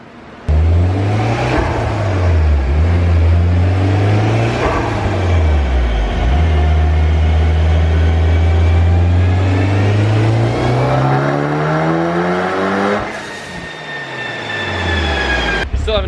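A Mitsubishi Evo 5 engine revs hard on a dyno while being tuned, its loud, close roar rising and dipping before holding a long steady climbing pull, then easing off and building again near the end.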